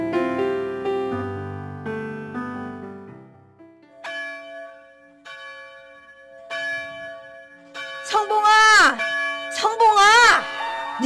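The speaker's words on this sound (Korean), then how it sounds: "지금 예배당 종소리 들리지 않네?" Church bells toll in a Korean radio drama, several clear resonant strikes fading between hits, with voices briefly heard over the ringing near the end.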